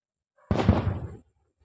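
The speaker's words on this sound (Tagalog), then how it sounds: "Buti firework lang." A single distant firework bang, a sudden muffled boom that decays over roughly three quarters of a second and then fades to silence.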